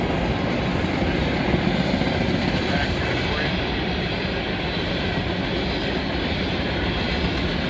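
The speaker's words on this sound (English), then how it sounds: "See that empty coal train here." An empty eastbound coal train rolls past at Oak Harbor, Ohio, led by SD70ACU and AC units, with a steady, loud wheel-and-rail rumble filling the whole stretch and a voice speaking briefly over it.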